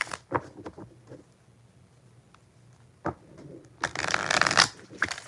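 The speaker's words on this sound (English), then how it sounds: "4 shuffles for Amber" Tarot cards being shuffled by hand during a live reading: several short riffling bursts early, a quiet stretch, then a long loud run of brisk shuffling close to the mic near the end.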